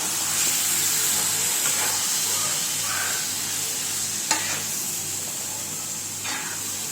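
Egg kothu parotta being mixed with kurma on a hot street-food griddle, giving a steady close sizzle and hiss with occasional scraping stirs and one sharp clink, no talking.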